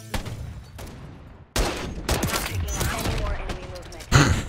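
Bursts of RPK hip-fire from a light machine gun in Call of Duty: Modern Warfare 3 crackle in rapid, loud volleys, ending in a sharp final blast, with voices talking over the shooting.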